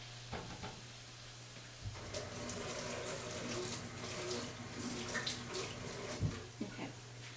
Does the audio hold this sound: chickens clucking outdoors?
no